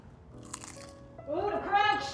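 A crisp, close crunch of biting into a pizza pot pie crust, followed by chewing, with people talking and reacting around it.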